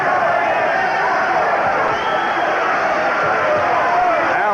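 A boxing arena crowd at the Julio Cesar Chavez versus Rocky Lockridge fight sends up a dense, loud, sustained roar and cheering as a commentator talks over it.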